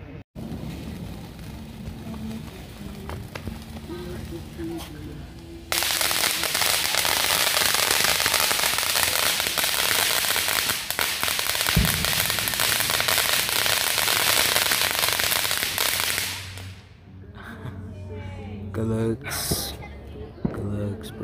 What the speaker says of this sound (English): Got our own fireworks show.